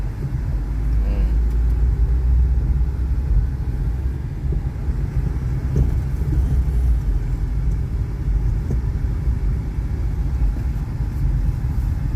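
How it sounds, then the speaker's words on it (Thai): A manual-transmission car's engine hums as the driver presses the accelerator, a steady, loud low rumble filling the cabin, with a voice speaking over it. "เหยียบคันเร่ง"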